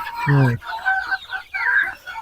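A few close desi chickens on a poultry farm clucking and calling in short bursts, fairly loud and alone.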